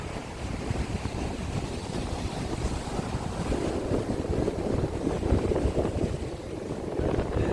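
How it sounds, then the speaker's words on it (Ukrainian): Sea waves on the Odesa shore roll and wash in a steady, continuous rush, with gusty wind buffeting the microphone throughout and no voices. "Боже, які хвилі!"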